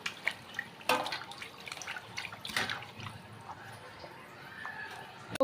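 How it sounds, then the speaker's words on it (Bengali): Duck meat is rinsed by hand under a running tap, a faint close trickle of water with soft splashes and a few sharper knocks, no voices. "এখন হাঁসের মাংসগুলো আমি সুন্দর করে ধুয়ে নিব"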